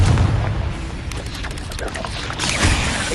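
A Confringo spell goes off in the Hogwarts Legacy video game with dense, booming blasts and crackling debris layered over busy game noise. A heavy low thump opens the clip and a second one follows near the end.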